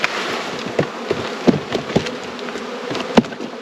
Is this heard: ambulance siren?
no